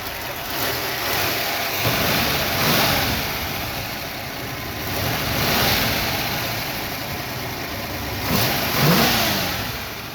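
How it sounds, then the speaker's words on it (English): A 1965 Ford Mustang GT K-code small-block V8 revs repeatedly, rising and falling in bursts over a steady rumbling idle, close by with no talking. "And I'll get under here and rev it up a little bit."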